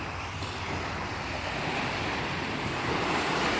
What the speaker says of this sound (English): wow, the waves here are pretty strong.